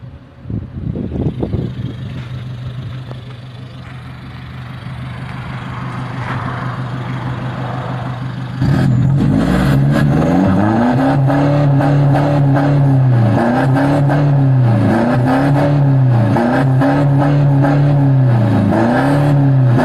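A 1.9 engine fitted with a rear-exit exhaust with tip and a center muffler idles with a low rumble, then revs in about six loud, rising-and-falling bursts, close up with no talk.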